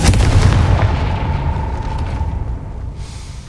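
The Confringo fire spell in the Hogwarts Legacy video game goes off as a loud, deep explosion that booms at once and rumbles away over a few seconds, with no voices.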